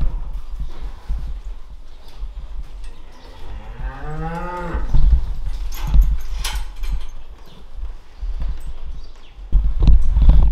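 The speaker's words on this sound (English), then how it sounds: "This is where we keep our milking cows." Dairy milking cows in a cow barn moo in one long, drawn-out low call near the middle, with scattered barn clatter and shuffling around it.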